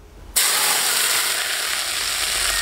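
Hot pepper oil poured over crucian carp with fresh Sichuan peppercorns bursts into a sudden loud, steady sizzle that holds strong and close until the end.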